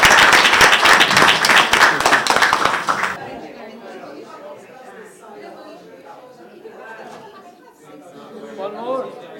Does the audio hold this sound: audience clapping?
yes